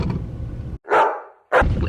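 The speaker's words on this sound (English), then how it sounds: "Oh, look at those dogs." Dogs bark in two loud bursts close by, with a brief gap between them, over an outdoor summer scene with no talking.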